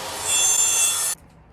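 Sanding putty over ceiling seams in an RV under renovation, a single steady rasping rub lasting about a second before stopping, close and alone.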